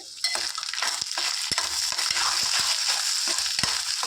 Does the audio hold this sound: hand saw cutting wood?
no